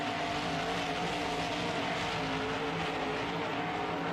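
Evil Force monster truck racing in an Anaheim stadium, its engine roaring loudly and continuously with dense, steady mechanical noise throughout.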